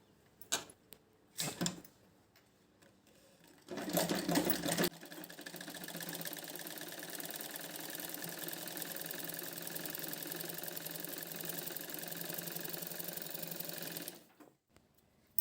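A sewing machine stitches dori hangings for a lehenga in a long, steady whirring run of about ten seconds, preceded by a few short bursts and starts, loud and close with no talking.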